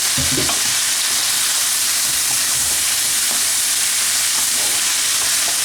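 Sliced leeks sauté loudly in a hot pan, a dense continuous sizzle and crackle with occasional stirring knocks, close up and with no voices.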